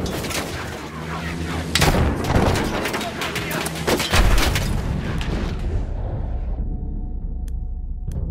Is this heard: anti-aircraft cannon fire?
yes